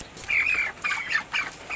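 Repeated squawks and clucking calls from 45-day-old chickens ready for sale, coming in several short bursts close by with no talking.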